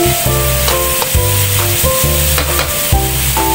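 Flat noodles and mushroom sizzle loudly in a hot pan, with repeated stirring strokes scraping through the frying in a quick, uneven rhythm, close up and with no one speaking.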